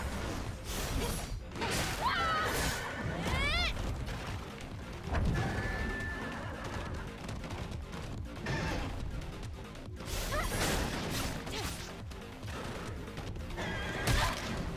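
Several loud whinnies from a horse-like creature in the video game Stellar Blade, squealing and wavering, ring out over clattering hoofbeats and busy action noise, with a faint voice underneath.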